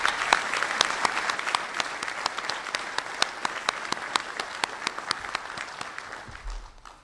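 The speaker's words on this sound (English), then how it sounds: "how about a round of applause for the 7th Fleet and 3MEF teams?" Applause from the audience at a U.S. 7th Fleet change of command ceremony, a fairly quiet, sustained round with sharp individual claps standing out over a soft wash of clapping before it fades near the end.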